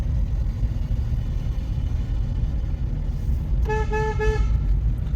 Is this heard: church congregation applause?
no